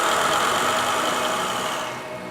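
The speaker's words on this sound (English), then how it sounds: "the generator is placed into a sound-insulated room with special exhaust circuits" A generator drones steadily at close range in a sound-insulated test room, a dense continuous engine rumble that fades slightly toward the end.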